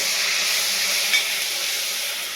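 Spices sizzle and splutter in oil under a covered pan, giving a continuous bright hiss with a single small pop partway through, steady and fairly loud, with no voices.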